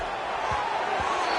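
Big college football stadium crowd before a key third down: a dense, continuous roar of cheering and shouting, loud and steady, with a couple of low thumps underneath.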